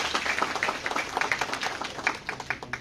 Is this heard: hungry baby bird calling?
no